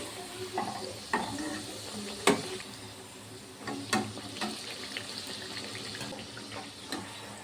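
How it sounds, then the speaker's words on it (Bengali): Tandoori paratha frying in a pan gives a faint sizzle. Scattered clinks and scraping knocks, as from a spatula turning the bread, break into it at intervals. No one speaks. "ভেজে নেবো, আর এপিট ওপিট লাল করে ভেজে নেবো।"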